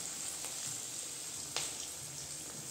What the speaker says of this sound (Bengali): এভাবে আমি একটা একটা করে তেলের মধ্যে দিয়ে দেব